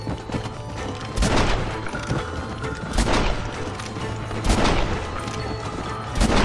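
Gunfire in Red Dead Redemption sounds as heavy booming shots spaced a couple of seconds apart over a dense, rumbling game soundscape, loud and close.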